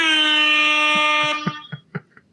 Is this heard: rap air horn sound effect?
yes